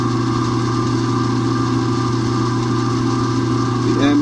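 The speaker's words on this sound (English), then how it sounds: "The end of the gouge is ground to the profile I want." A grinder reshapes a woodturning gouge into a side-grind profile, holding a steady, loud mechanical drone with a constant tonal whine, and a faint chirping scrape near the end.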